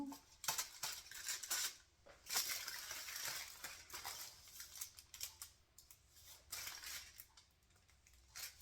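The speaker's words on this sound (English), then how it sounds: "So now I'm just going to cut it into 8 pieces" A knife cuts pumpkin scone dough into eight pieces, making a series of soft, irregular scraping taps and clicks against a surface. The sounds are close and fairly quiet, with brief pauses between cuts.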